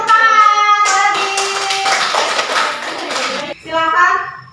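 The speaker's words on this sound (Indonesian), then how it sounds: "Tepuk tangan lagi." Children in a classroom clap their hands together in a short burst mixed with their own chattering and shouting voices, then the clapping fades and a voice is heard alone.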